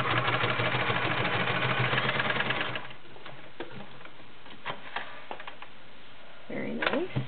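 A White Model 999 convertible flat bed/free arm sewing machine fitted with a size 16 needle stitches through eight layers of drapery fabric, giving a rapid, steady mechanical chatter for a few seconds before stopping, followed by quiet handling clicks.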